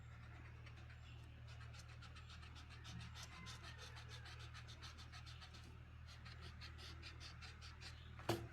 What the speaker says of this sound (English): I'll erase this middle line.